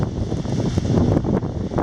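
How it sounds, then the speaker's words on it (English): Loud wind gusting to 25–30 mph buffeting the microphone outdoors in strong, gusty rushes, close and roaring with brief dips between blasts. "Gusts up to 25 to 30 miles an hour today."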